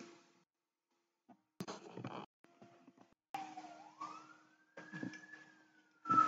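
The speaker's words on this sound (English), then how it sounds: "You can hear, you're going to hear the sirens." Emergency vehicle siren rising and holding a steady wail in the background during the second half, with intermittent bursts of other noise before it; moderately faint and distant.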